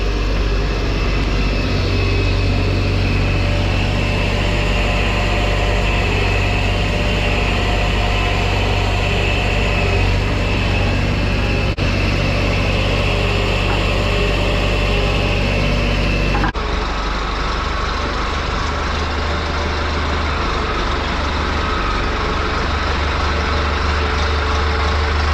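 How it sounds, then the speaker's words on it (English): A J.I. Case farm tractor engine idles loud and close, a constant low rumble that runs unbroken throughout, with a brief shift in tone partway through and no voices. "gonna pull this tractor out"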